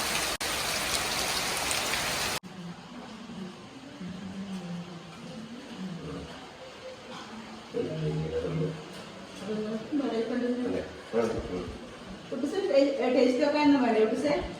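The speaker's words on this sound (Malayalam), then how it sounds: "ഈ സമയത്തൊക്കെ പുറത്ത് നല്ല അടിപൊളി മഴയാണ് കേട്ടോ സൗണ്ട് കേൾക്കുന്നില്ലേ" Dense hiss of heavy rain at night at the start, then softer steady rainfall continues beneath voices talking.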